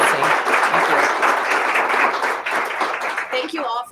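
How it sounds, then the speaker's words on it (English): Audience applause fills a room at the close of a First Fridays presentation, steady dense clapping throughout, loud and close, tapering slightly near the end as a voice briefly comes in. "please join me in another round of applause for Kristen."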